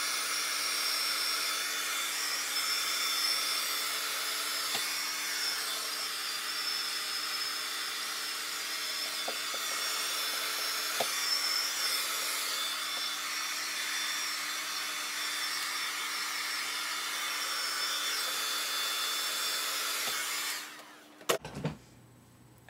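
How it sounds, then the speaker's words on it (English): A hair dryer runs on hair in a steady, loud, airy whoosh that continues for about twenty seconds, with faint handling noises under it, then cuts off abruptly near the end. "And then I'll go back to just lightly blow drying."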